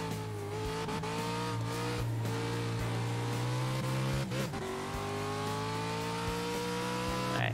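A race car engine on an out lap in a sim racing game, holding a steady, loud drone with slight pitch shifts, a brief lift and re-acceleration midway, and faint tire squeal.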